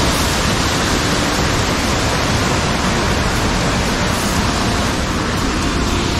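Mountain water near Rishikesh rushes and roars in a dense, loud, unbroken wash of noise, close by and steady throughout.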